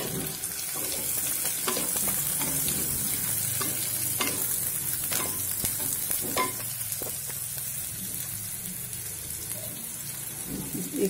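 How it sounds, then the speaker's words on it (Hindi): Onions sizzle in hot oil in a pan for a chana dal curry, a loud continuous frying hiss close up, with scattered clicks and scrapes as they are stirred. "जब इसमें से झांस आने लगे तब इसमें मैं प्याज ऐड कर रही हूँ"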